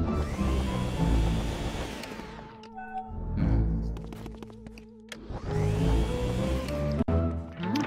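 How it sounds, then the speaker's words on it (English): A loud whirring vacuum suction from the Luigi's Mansion video game, with a steady motor drone that briefly drops out and restarts, accompanied by rising tonal game effects and no talking. "It's an awfully powerful vacuum."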